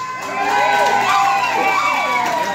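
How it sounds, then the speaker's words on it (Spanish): A nightclub crowd at a Halloween party cheers and shouts, with some clapping, in a loud, sustained burst of mixed voices and whoops. "¡Aplausos!"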